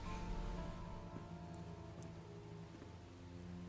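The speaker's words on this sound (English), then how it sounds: "Always raining at the most inappropriate time." Rain falls steadily in the survival game Enshrouded, a soft continuous patter and hiss of drops on surfaces, fairly quiet and even throughout with no voices over it.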